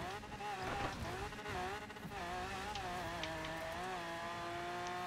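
A street-version car drives on dirt in Forza Horizon 4, a steady, droning engine tone that rises and falls gently as it holds speed, with faint gravel noise and a voice talking over it.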